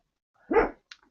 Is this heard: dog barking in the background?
yes